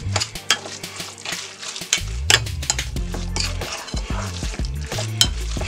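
Tuna melt filling with mayonnaise and black pepper being stirred by hand in a bowl, giving close, continuous soft scraping and squelching with occasional sharper clicks of the utensil against the bowl.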